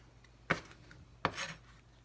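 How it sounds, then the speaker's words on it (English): Two sharp knife chops on potatoes against a cutting board during home cooking of a roast potato dish, close and fairly quiet, spaced about three quarters of a second apart with a faint scrape after the second. "We got Mama over here chopping up some potatoes."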